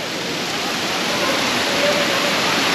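Broad, steady rush of cold spring water flowing at Cansiboy Park at the foot of a mountain in Eastern Visayas, a continuous close wash with no breaks, swelling slightly toward the end.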